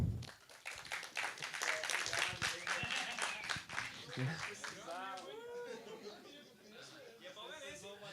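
Applause and clapping from a seminar audience on cinema exhibition in Salvador, a dense patter of many hands filling the room at moderate distance, with chatter and light laughter mixed in and a voice speaking over it toward the end.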